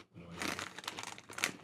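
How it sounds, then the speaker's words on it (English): A small Chips Ahoy cookie bag crinkles and rustles up close, with irregular crackling bursts through most of the moment and a sharper crunch near the end. "The ruffling of a little Chips Ahoy bag."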